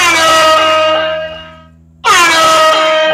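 A reggae air horn sound effect plays loudly through a Sony V73D party speaker, two blaring tonal blasts, the first fading away before the second bursts back in at full strength.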